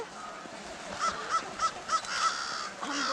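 A flock of crows returning to roost caws outdoors, a quick series of five or six harsh calls at middle distance above a steady wash of background noise.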